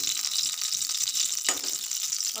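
Ghee sizzles in a hot cheenachatti frying pan, a steady close hiss of hot fat with a brief sharper crackle partway through.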